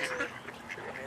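A duck at a zoo quacks in a short burst of a few nasal calls, close and moderately loud, with no talk over it.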